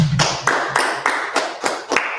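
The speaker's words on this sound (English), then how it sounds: "let's clap it up" Several pairs of hands clapping in a steady rhythm, about seven or eight sharp claps at a lively pace, close and fairly loud, alone without talk.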